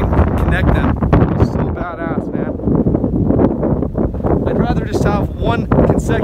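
Strong gusty wind at Big Bear Lake in California before a winter storm, buffeting the microphone in loud, uneven rumbling blasts while someone speaks over it throughout.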